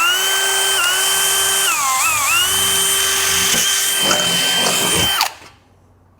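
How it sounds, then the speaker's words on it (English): A power drill whines close and loud at steady high speed, its pitch dipping briefly as the bit bites into the workpiece, then cuts off sharply near the end; someone talks over it. "Should just be able to drill some holes and try not to drill through my finger."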